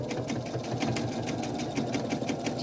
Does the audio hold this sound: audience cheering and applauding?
no